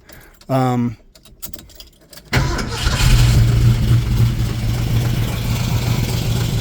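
A 1970 Ford Mustang Mach 1 cranks with a rapid rhythmic starter whir, pauses amid small clicks, then catches and settles into a loud, close, slightly rough idle on older gas.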